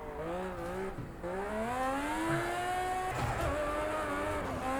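Mad Mike's Mazda MX5 drifts in Project Cars 2. The engine revs hard and its pitch rises and falls through the slide, with scrubbing tire squeal underneath and no talking.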